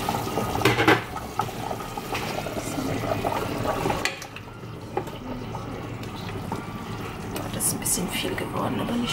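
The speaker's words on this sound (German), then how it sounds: "ich gebe jetzt meine Köftes zu der Suppe, weil es kocht schon." A pot of soup at a rolling boil as köfte meatballs are dropped in, bubbling and splashing water with a soft clink of cookware, while someone talks over it.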